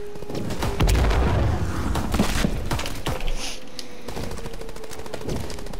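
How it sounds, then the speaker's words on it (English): Gunfire in the World War II shooter Call of Duty: WWII, a rapid burst of sharp cracks and booms followed by scattered single shots, loud and close, no talking. "I can use my pistol"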